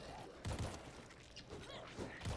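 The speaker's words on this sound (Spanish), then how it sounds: "¿Neta aguantaste el disparo?" Gunfire in the zombie shooter World War Z comes as a few sharp, punchy bursts spread across a couple of seconds, mixed with game noise and faint voices.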